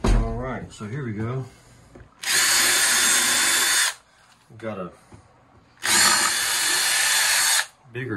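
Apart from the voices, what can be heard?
power drill driving a screw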